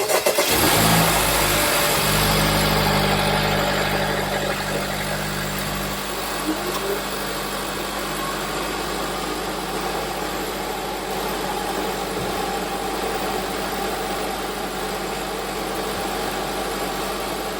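Honda Civic Type R FL5 fitted with a PRL Stage 1 intake hose kit, starting with a sharp crank and rev flare, then settling into a steady, loud idle heard close by.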